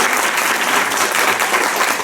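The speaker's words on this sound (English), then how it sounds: "Give it up for Harriet" A live improv comedy audience claps steadily and warmly for about two seconds, a dense, even wash of applause filling the room with no pauses.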